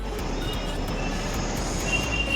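Karjat-bound suburban local train rolling along the line, a steady loud rumble of wheels on rails with faint squealing, continuous and close throughout, no voices.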